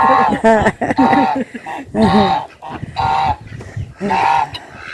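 Geese honking in a village farm garden, several loud, near bursts of nasal calls in quick uneven succession, with other birds and faint background noise between.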